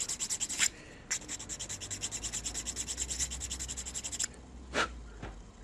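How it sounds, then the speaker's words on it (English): A 400 grit sand stick is rubbed rapidly back and forth across a small plastic model kit part, giving a close, steady rhythmic scratching of many quick strokes with brief pauses and a couple of sharper scrapes near the end. "then that's when I break out the 400 grit sand stick"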